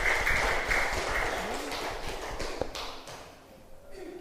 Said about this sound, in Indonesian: Tepuk tangan untuk Asika ya.